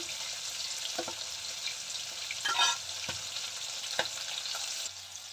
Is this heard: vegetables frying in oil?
yes